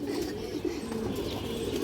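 A large silver Bagha male pigeon coos softly at close range, a low, throaty murmur running continuously through the short moment with faint background noise.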